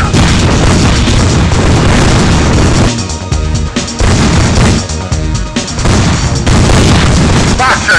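Artillery fire and explosions in the game Jeff Wayne's War of the Worlds, with heavy booms and crashing blasts, very loud and nearly constant, and a short lull partway through.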